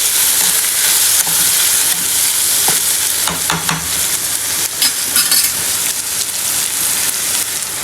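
Chicken and a little carrot stir-fried in a pan, with a steady close sizzle and scraping stirs throughout.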